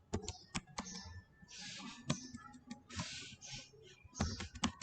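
Someone types an Oracle database command on a computer keyboard: a quiet series of uneven key clicks and taps in short bursts with brief pauses between them, close by, with no voice over it.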